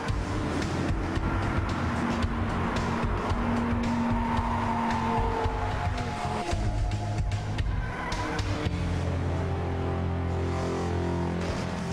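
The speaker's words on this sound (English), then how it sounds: "Convertibles on a racetrack are usually not something we look forward to" A 2011 Audi R8 Spyder V10 convertible runs on a racetrack, its engine droning steadily and loudly with rising and falling pitch as it accelerates and shifts, close and continuous throughout.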